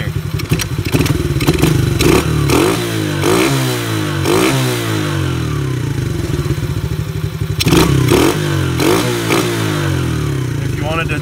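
A Chinese ATV engine runs during carburetor adjustment, revving up and settling in repeated swells with loud mechanical clatter and thumps, close by and filling the whole clip.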